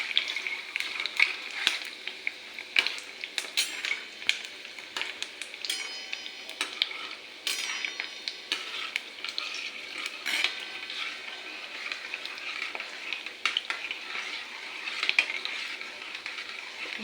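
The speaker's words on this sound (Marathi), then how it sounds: "खूप मंद आचेवर तळून घ्यायचे" Gulab jamun made from packet mix frying in oil over very low heat while being stirred, with steady light bubbling and frequent clinks and scrapes of a utensil against the pan, close and continuous, no talking.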